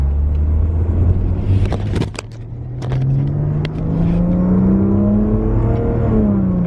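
Car accelerating, heard through a slightly rolled-down window: a steady close engine rumble with a rising whine as it speeds up, a brief dip and bumps midway, no talk.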